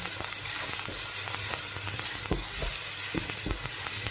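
Ginger, pepper and garlic frying in a pan for a cabbage stew, giving a steady close sizzle broken by irregular stirring scrapes and pops, with no voices.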